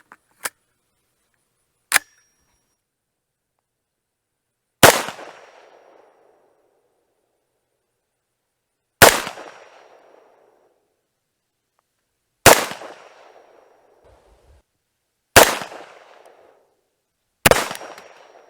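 Seven sharp, loud rifle shots from a Tommybuilt T7 firing a load rated at 2100 feet per second while shooting a test group, each crack trailing off in a short echo, spaced a few seconds apart with no talking.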